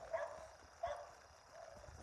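A bulldog barks faintly at a distance, two or three short yips spread over a couple of seconds against steady background noise outdoors at a kennel.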